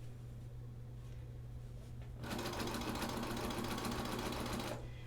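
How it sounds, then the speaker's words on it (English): A sewing machine stitches binding onto a quilt in one steady, moderate-speed run of rapid needle strokes lasting a couple of seconds, starting and stopping cleanly against a quiet room hum. "So we're going to continue sewing."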